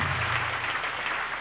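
Church congregation clapping for Jesus during a sermon, a thick, steady burst of applause from a large crowd that holds evenly throughout.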